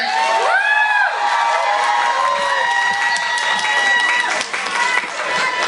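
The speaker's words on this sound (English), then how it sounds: "Let's give them a cheer" An audience at a fashion show of traditional Asian garments cheers and applauds the models, with loud clapping, whoops and a few high shouted voices rising over the crowd noise.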